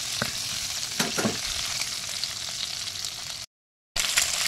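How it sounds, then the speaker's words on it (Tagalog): Steady oily sizzling of chicken frying in a pan for chicken hamonado, with a few clattering stirs, a brief dropout near the end, then the sizzle resumes. "Hayaan muna natin na prito ang ating yan."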